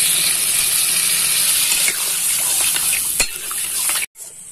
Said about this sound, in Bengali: এবার আমি আলুগুলো দিয়ে দেব। অল্প পরিমাণ এবার জল দিয়ে দেব।